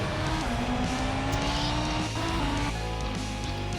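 An F1 race car in a video game revs and accelerates out of the pit lane, its engine whining with rising and shifting pitch steps, loud and continuous with no voices.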